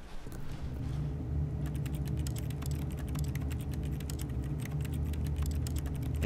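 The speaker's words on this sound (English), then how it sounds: "And type on my keyboard." Keys clatter on a computer keyboard in the video game The Stanley Parable, a rapid run of crisp clicks over a low steady hum, starting after a short pause and continuing alone.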